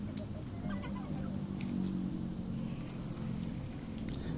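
Rhode Island Red chickens cluck softly in a farmyard, their low murmuring calls blending into a constant background hum of the flock, with no voices over it.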